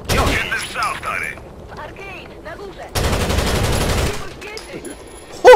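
Gunfire in the shooter game Rainbow Six Vegas, short bursts of sharp automatic shots with a longer sustained burst midway, loud and close, separated by quieter gaps with brief voices.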